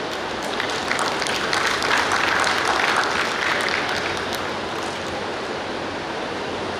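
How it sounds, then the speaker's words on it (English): A large audience at a medical college graduation day applauds in a thick, continuous wash of clapping, loud and even throughout, swelling slightly around the middle. "Give them a big hand."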